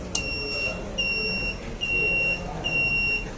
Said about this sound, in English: buzzer will be beeps on and off 2 times